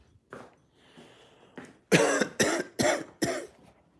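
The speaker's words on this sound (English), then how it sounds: "I'm still coughing from whatever that baking soda." A person coughs from baking soda dust a cat stirred up: a few soft, scattered coughs first, then four loud, harsh coughs in quick succession, close by.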